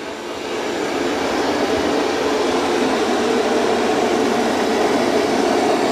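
A Roborock S8 Pro Ultra robot vacuum mopping a floor gives a steady, even whirring hum, close and unbroken, with no voices.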